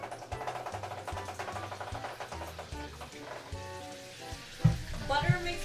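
Hash browns frying in butter in a pan, giving a soft crackling sizzle with a few louder spits near the end and no speech over it.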